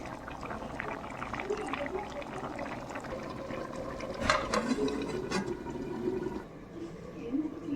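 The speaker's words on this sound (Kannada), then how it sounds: "ಇನ್ನೊಮ್ಮೆ ಚೆನ್ನಾಗಿ ಮಿಕ್ಸ್ ಮಾಡಿಕೊಂಡು ಮತ್ತೆ ಒಂದು 5 ಮಿನಿಟ್ಸ್ ಕುದಿಸಬೇಕು" Moli sukka fish curry bubbling in a pot, a continuous close watery churning with a brief louder splash midway, while a person talks throughout.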